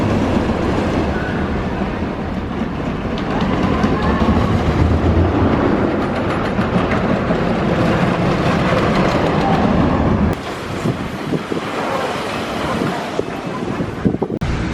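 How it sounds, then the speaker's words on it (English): Giant Dipper wooden roller coaster train at Belmont Park, San Diego, rumbling and clattering continuously along the track with heavy wind buffeting, loud and close, shifting to a rougher rattle near the end. "Welcome to the Giant Dipper at Belmont Park."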